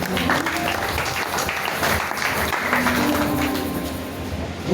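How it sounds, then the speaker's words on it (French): Applause from an audience at a New Year's Eve church vigil, a steady, dense patter of clapping with some background noise and murmur, fairly loud throughout. "On peut applaudir ma femme."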